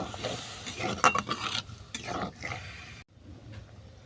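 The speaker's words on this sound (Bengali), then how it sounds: "সবজি আমার ভাজা হয়ে গেছে, এবার মশলা বাটা জলটা দিয়ে দেবো।" Spice paste mixed with water is poured onto amaranth stems frying in a pan, giving a burst of hissing and sizzling with scraping and stirring clatter, followed by a sudden cut to quieter simmering.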